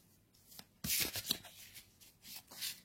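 A deck of oracle cards is shuffled by hand at close range: a quiet lead-in, then a flurry of riffling, flicking and sliding sounds in uneven bursts, with no speech.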